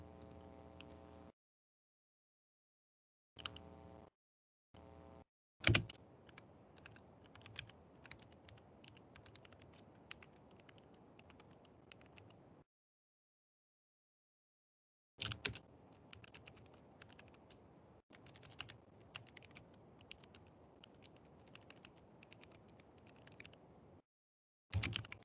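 Bursts of typing on a computer keyboard, rapid clicking keystrokes in several runs separated by short silences, close and moderately loud with no talking.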